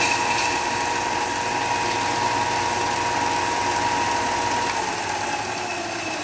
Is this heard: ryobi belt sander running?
yes